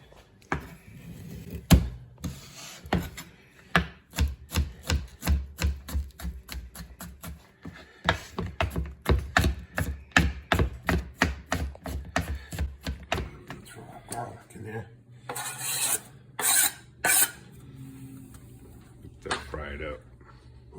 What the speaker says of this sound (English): Cut the garlic.